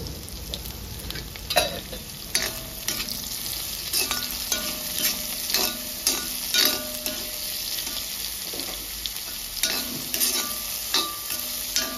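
Oil sizzles steadily in a pan on a home stove during the cooking of a ridge gourd dish, with repeated close scraping and clinks of a stirring utensil against the pan.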